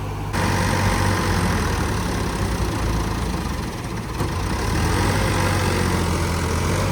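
A heavy tractor engine, a 3630 towing a trolley stuck in a field, roars continuously under strain, loud and close with a steady low rumble throughout.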